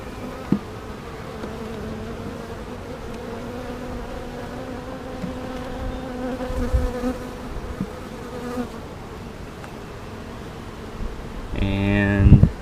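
Honey bees buzz steadily at close range during a hive inspection, with brood frames holding queen cups, pollen and spotty brood. The dense hum carries throughout, and someone speaks over it, with a brief rustle near the end.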